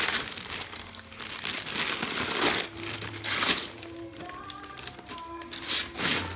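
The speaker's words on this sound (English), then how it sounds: "Pull the paper off." Reindeer wrapping paper is crinkled and torn off a Christmas present in close, irregular bursts of rustling and ripping, with a few faint voices in the room.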